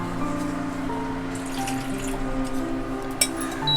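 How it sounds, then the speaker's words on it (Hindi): Water is poured into a pot for milk tea, a steady, moderately loud liquid stream with a brief splash near the end. "ये रही पानी, थोड़ा ज़्यादा लूँगी क्योंकि इसको उबालना पड़ता है"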